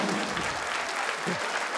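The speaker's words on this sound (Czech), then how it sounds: "A je většinou potlesk" A studio audience claps through a Czech TV talk show segment, dense even applause filling the room from start to finish with no letup.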